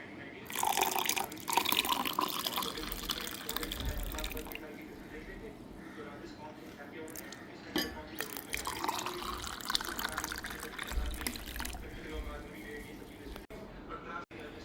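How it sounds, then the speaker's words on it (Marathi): Raw mango sherbet is poured into a container, giving a soft continuous liquid trickle and splash at close range while someone talks over it. "आता ह्यामध्ये ओतूया आपण सरबत"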